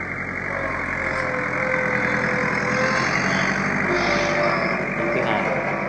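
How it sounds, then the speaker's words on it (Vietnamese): A tractor engine rumbles steadily as it crosses a bridge in a Vietnamese village, a continuous droning motor held close and fairly loud for several seconds. "Anh em xem xe máy cày qua cầu nè"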